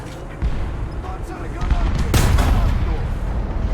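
Tank cannon fire booms in the War Thunder video game, in heavy, close, loud blasts with a sharp crack partway through, over a constant engine rumble.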